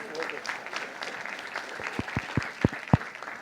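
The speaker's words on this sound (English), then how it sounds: "let's give him another round of applause" A summit audience gives a panelist a round of applause: a broad crowd clapping that is steady at first, then thins into a few loud, distinct claps near the end.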